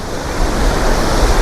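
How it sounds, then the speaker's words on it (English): Surf from low waves rolls onto a beach in India in a steady, broad wash, with strong wind buffeting the microphone throughout and no voices. "And here, you can check out the view, guys. The waves are not so high."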